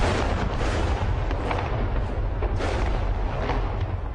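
NATO airstrike explosions near a compound in Tripoli during a heavy bombardment, heard as a continuous loud, rumbling roar of blasts with repeated deep booms and no speech.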